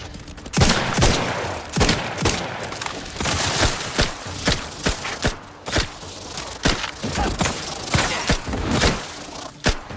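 A slow-firing gun in the video game The Outer Worlds 2 fires a steady run of loud, evenly spaced shots, about two to three per second, over a busy combat backdrop.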